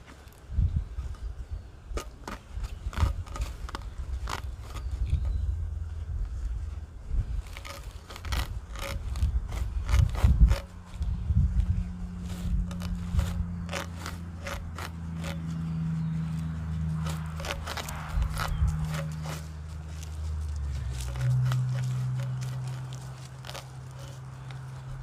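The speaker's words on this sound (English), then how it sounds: "So you take your shirt, cloth, whatever you got, and you cut strips off of it." A cloth shirt is cut into strips for an emergency torch, making repeated close snipping and tearing scrapes over a low steady background hum, with no talking.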